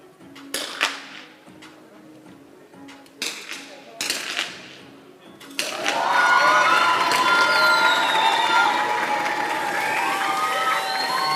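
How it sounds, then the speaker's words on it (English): Crowd cheering erupts loudly and holds steady at a 50 m rifle three-positions women's final at an ISSF shooting World Cup in Bhopal, India, after a few short, sharp bursts of noise; some distant talk runs underneath. "Again, strong cheers from the crowd."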